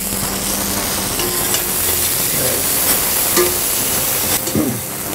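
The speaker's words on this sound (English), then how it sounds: "I'm now going to throw the lentils in." Lentils tossed into a pot of braised beef cheek and stirred, a steady soft sizzle and bubbling with scraping stirs and a few light clinks, close and fairly loud, no talking.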